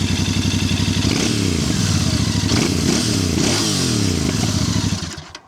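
Royal Enfield Bear 650 motorcycle, a 2025 model with a short stubby exhaust, idling and revving near the tailpipe: a loud throbbing twin-cylinder rumble that swells through several quick throttle blips, then fades as the engine winds down.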